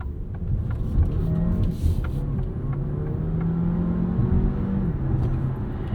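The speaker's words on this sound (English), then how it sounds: "let's put this Tonale into dynamic mode and see how it gets off the line" A 2024 Alfa Romeo Tonale Ti plug-in hybrid accelerating from a stop in dynamic mode, its engine rising in pitch through gear changes with steady road rumble inside the cabin.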